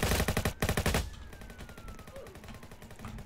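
Roblox Jailbreak gunfire crackles in a rapid automatic burst of about a dozen close shots, then stops, leaving faint game ambience with scattered quieter noises.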